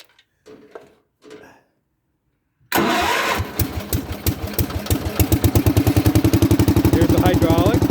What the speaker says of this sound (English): Now I'll start the tractor up again, and I'll run it at close up so you can see it.